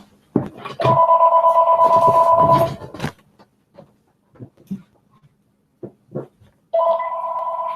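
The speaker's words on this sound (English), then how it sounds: "my phone is ringing" A telephone rings twice, loud and close, each ring a long warbling electronic tone, with faint, quiet speech in the pause between.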